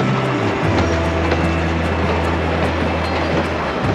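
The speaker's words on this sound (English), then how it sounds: "I'm going to take a train through the mountains of Colorado" A train travels through the mountains of Colorado, a loud, steady rumble with faint rhythmic clatter from the rails continuing throughout.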